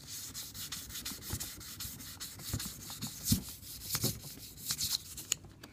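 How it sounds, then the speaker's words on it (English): Close, scratchy back-and-forth rubbing of folded 2000-grit sandpaper by hand on an AK-47 bolt carrier, in uneven strokes with occasional light taps, fairly quiet. "Take some 2000 grit. I like to fold it into a small workable piece like this and start sanding."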